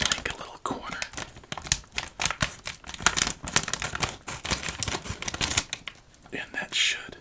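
Leatherman scissors snipping the corner of a pizza-flavored potato chip bag, close crinkling of the plastic bag and sharp cutting clicks in uneven bursts, with soft whispery speech alongside.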